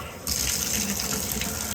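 A hot shower runs steadily, a brief bright hiss of spraying water that starts abruptly and cuts off after about a second and a half, close and alone.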